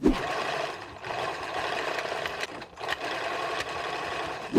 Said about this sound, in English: let's take this to the sewing machine and do that